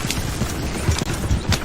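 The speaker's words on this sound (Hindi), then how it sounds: "गाड़ी वाले ने चाबुक चलाई और घोड़ा गाड़ी दौड़ गई।" Horse-drawn carriage set off at speed by the driver's whip, hooves clip-clopping in a quick uneven rhythm, close and loud over a rough, rumbling wash of road noise.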